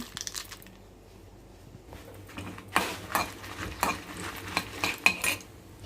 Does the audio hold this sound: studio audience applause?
no